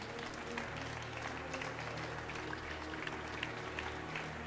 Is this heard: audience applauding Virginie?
yes